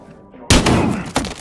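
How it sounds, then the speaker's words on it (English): Gunfire in the video game Battlefield Hardline: a sudden loud burst cracks in about halfway through after quiet background, followed by a second sharp report near the end, close and forceful. "Gunfire reported. Code 3."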